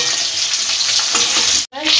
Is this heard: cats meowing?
no